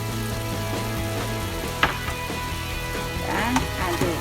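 Egg omelette scrambled with tofu stir-fried in a pan, a steady sizzle under scraping stirs and a few sharp utensil knocks against the pan, with no voices.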